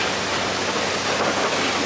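Water pours steadily in the Trevi Fountain in Rome, a loud, continuous rushing splash that fills the whole moment with no break.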